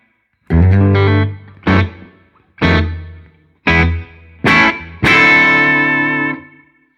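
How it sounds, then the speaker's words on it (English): Electric guitar run through a spring reverb pedal in a digital and analog signal path, six separate strummed chords or notes, each ringing briefly and then cut, the last one sustaining with a long shimmering tail, loud and close. "That's a spring reverb."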